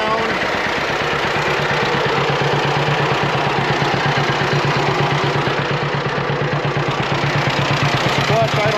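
Engine of a 1941 Model B running, a loud steady low rhythmic chug with fast even pulsing and mechanical rattle, close up throughout, with a voice talking over it.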